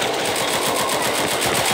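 Rifle fire in the zombie shooter Left 4 Dead 2, heard as a loud, close, continuous automatic burst of rapid, evenly spaced shots for nearly two seconds.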